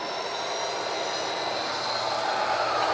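Locomotives hauling tank cars along a track, giving a steady, continuous rumble and rolling wheel noise with a faint high metallic squeal, moderately loud and unbroken, with no talk.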